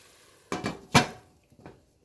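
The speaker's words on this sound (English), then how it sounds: "Let's mix it all together and let it cook for 5 minutes." Spoon scraping and clinking in a frying pan while chicken shashlik is mixed, a few close clattering strokes and then a fainter final one, with no voices.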